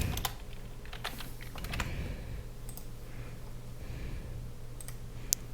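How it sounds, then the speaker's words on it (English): Close-up clatter of keys as text is typed on a computer keyboard, in quick irregular bursts with brief pauses, steady and moderately quiet. "You can type any text you want in here and it'll do it."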